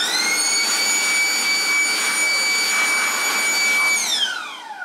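Compressed air blasting dust out of a PlayStation 4 cooling fan, a loud continuous hiss with a high whine from the spinning fan that drops in pitch as the burst ends near the close.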